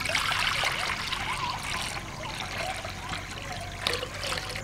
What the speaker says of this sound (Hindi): सबसे पहले हम कढ़ाई में पानी डाल लेंगे